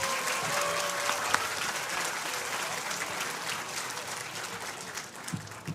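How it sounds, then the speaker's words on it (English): Audience applause at the Co-op Tech 2023 completion ceremony, a steady broad wash of clapping that fills the whole stretch, with a few brief voices and whistle-like tones rising over it. "Can we give another round of applause for all of our student speakers today?"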